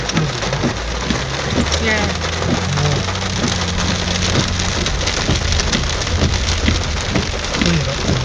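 Heavy rain pours steadily during the 2011 Ballarat flooding, a loud dense hiss of drops on surfaces throughout, with a brief spoken word over it.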